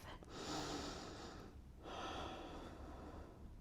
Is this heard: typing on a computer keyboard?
no